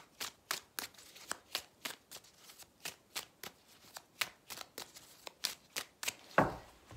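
Tarot cards are shuffled before a reading, a close, regular series of crisp riffling snaps repeating about every third of a second, ending in a longer, softer flutter.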